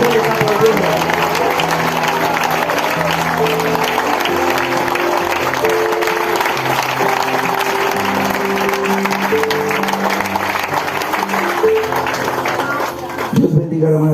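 Church congregation applauding during a sermon, continuous clapping layered over sustained music and voices, loud and steady before dropping off near the end.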